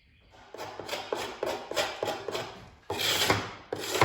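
Steady rasping scrapes of paint being worked off a wooden coffered ceiling overhead, coming in repeated strokes of varying length, close and fairly loud, with a heavier scraping burst near the end.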